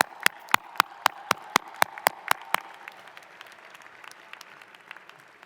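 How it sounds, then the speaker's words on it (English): Law school graduates at a Fordham University diploma ceremony clap for their family and friends, a run of about ten sharp, evenly spaced claps that stand out at first and then thin into a softer scattered patter from the crowd. "let's give your family, friends, loved ones a round of applause"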